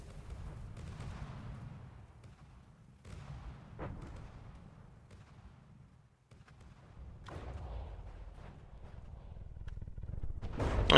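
Distant, muffled gunfire thuds and booms scattered through a Finest Hour solo game session, faint irregular shots with a louder burst near the end and no talk.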